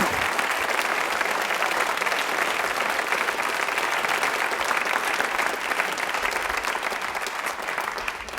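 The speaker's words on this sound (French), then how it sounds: "Je vais vous demander d'ailleurs d'applaudir Eddie Barclay et Daniel Gilbert" A studio audience applauds Eddie Barclay and Daniel Gilbert on a French television show, with sustained, dense, loud clapping that holds steady throughout.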